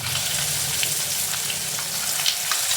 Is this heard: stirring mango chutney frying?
yes